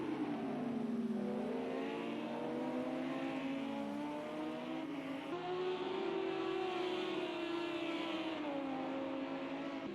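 GT3 race cars in Project CARS 2 at the Zhuhai circuit roar past, engines climbing and shifting in pitch as they accelerate through a turn and up a hill, loud and continuous.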